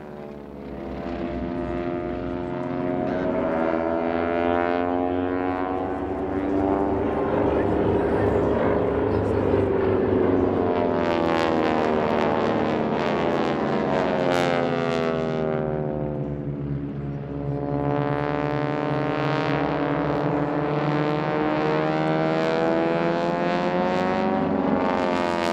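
Aerobatic propeller aircraft flying opposing loops and rejoining in formation at the EAA AirVenture Oshkosh 2019 airshow, a loud sustained engine drone with rising and falling pitch as the planes pass, swelling twice over the span.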